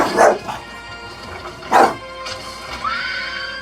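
A bulldog barks in two sharp, close bursts, then lets out a rising whine while a movie scene plays faintly in the background.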